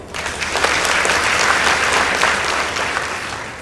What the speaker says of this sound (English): let's appreciate St. John Tala High School with a round of applause